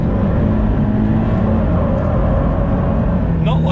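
A Subaru BRZ on a race track accelerates out of a corner toward the shift light, its engine droning loud and steady from inside the cabin, with a rising tone near the end.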